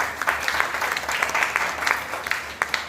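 Applause from the audience at a Hindi kavi sammelan (poetry gathering) in Maholi, a steady spread of clapping with scattered sharper claps, moderately loud throughout.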